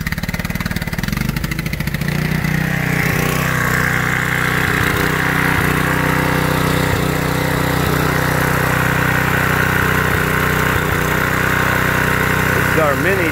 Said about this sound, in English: we're going to run the jetter down this line right here